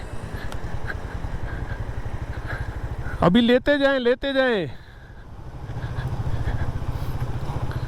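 A Honda CD70 motorcycle engine idles with a steady low putter on a steep, dangerous mountain road in Kashmir, interrupted by a brief loud rising rev or horn-like tone, with people talking nearby.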